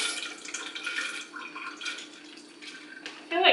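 Water is poured off cooked lentils for lentil moi moi, a faint splashing trickle that varies in strength and ends with a short louder splash.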